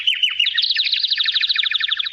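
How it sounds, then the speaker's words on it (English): Birds sing outdoors after rain, a continuous run of rapid, bright trilling chirps, close and clear with no voices. "I have good birds."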